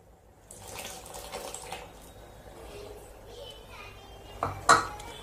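Tamarind water pours and splashes into a pot of boiling prawn curry amid kitchen clatter, with a brief louder burst of clinking and splashing near the end.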